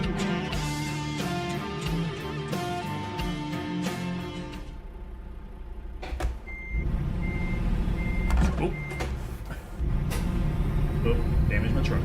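A truck backing up in American Truck Simulator gives steady reversing beeps over engine rumble, with air brake hiss and a person talking at times.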